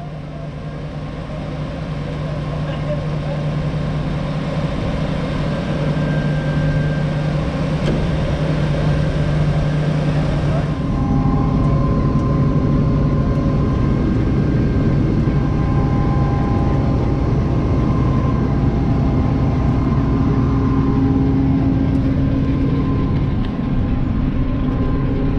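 A CLAAS Lexion 8600 TT combine harvester harvesting soybeans gives a steady, loud engine and machinery drone with tonal whine, heard from close by, shifting pitch slightly partway through and holding constant throughout.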